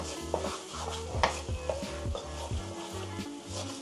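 Palm sugar and green curry paste are stirred in hot oil for a Thai green curry with beef, producing a steady low sizzle with soft scraping strokes of the spoon and occasional light clicks against the pan.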